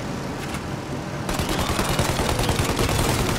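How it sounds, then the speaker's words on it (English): Rapid gunfire in Mafia Definitive Edition as shooters target an airplane's engines: dense, loud bursts of shots that intensify after the first second and continue without a break, with no talking. "Shoot out the engines!"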